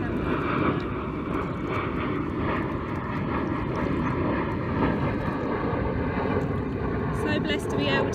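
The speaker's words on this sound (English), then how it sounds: "There's a plane coming overhead." A fixed-wing airplane passes overhead outdoors by the water during kayaking, its engine a steady broad drone holding at constant loudness throughout, with light background noise.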